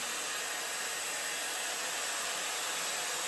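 Shark hair dryer running steadily while blow-drying curly hair, a constant airy hiss and whoosh held at an even level from start to finish, close and unbroken, with no voices.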